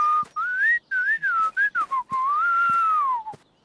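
A character in the animated series Bing whistles a wavering melodic tune with bouncing pitch, clear and close, in several short phrases with brief gaps and one long sustained note at the end.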